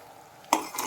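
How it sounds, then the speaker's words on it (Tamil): A short burst of bubbling and sizzling as sugar syrup boils in a pan on the stove, with a brief stir-like clatter midway and steady low cooking noise throughout. "இப்போ பார்த்தீங்கன்னா நல்லா கொதிக்க ஆரம்பிச்சிருக்கு."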